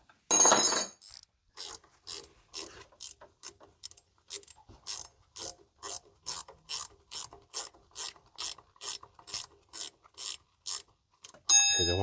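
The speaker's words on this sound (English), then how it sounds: "I want my ratcheting 14 mil." A ratcheting 14 mm wrench works bolts on a 1997 Jeep Grand Cherokee ZJ 5.2L V8 engine, giving about twenty rapid, evenly spaced ratchet clicks close up, with a louder burst at the start and end.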